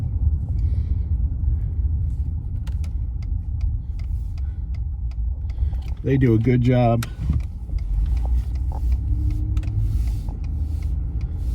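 A car drives along a road in Port Aransas, Texas, with a steady low rumble of engine and tire noise throughout, while someone speaks briefly partway through.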